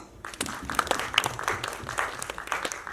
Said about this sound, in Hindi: एक बार प्लीज तालियां